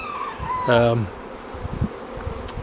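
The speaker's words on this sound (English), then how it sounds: "You can see it's stuffed with bees. Still loads coming in" A dense honey bee swarm arriving at a nuc hive buzzes continuously, a close, steady drone with a brief louder tonal burst partway through.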